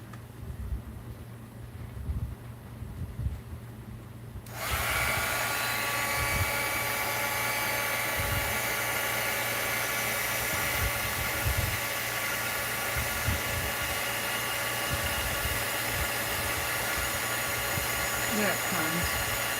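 Heat tool blowing steadily onto painted bottle caps, a loud continuous whirring hiss that switches on a few seconds in and runs without pause, with faint voices underneath.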